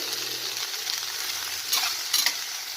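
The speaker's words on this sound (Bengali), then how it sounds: "এটা একটু নাড়াচাড়া করতে হবে" Yardlong beans fry in a pan while being stirred, giving a steady close sizzle with a couple of brief scraping stir strokes near the end.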